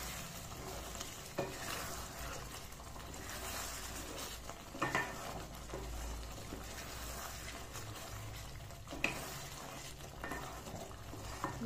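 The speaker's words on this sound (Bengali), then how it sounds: "একটু নাড়িয়ে দিয়ে" Kadhai paneer masala with cashew, poppy seed, onion, garlic, ginger and capsicum being stirred in a pan, a steady low sizzle with scraping stir strokes at irregular intervals throughout, close and moderately quiet, no talk.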